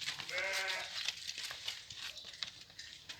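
Sheep at a livestock sale give a single clear bleat near the start, followed by faint shuffling and scattered hoof-like knocks around the pen.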